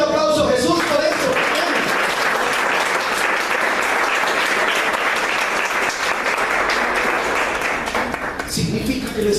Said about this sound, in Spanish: Y se merece un aplauso a Jesús por eso.